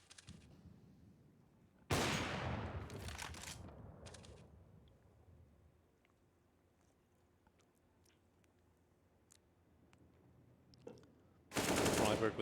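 Rifle gunfire in Counter-Strike on the map Nuke during a Heroic versus forZe match: a loud burst of rapid shots, a quieter stretch with faint clicks, then another sharp burst at the end.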